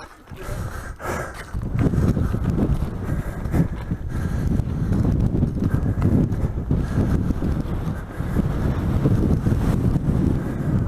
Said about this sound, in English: This is where you can lean into the wind like Titanic.